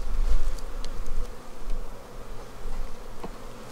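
Dense, steady buzzing of many honeybees up close in a hive in 25°F winter cold, a continuous hum with a few individual bees droning past.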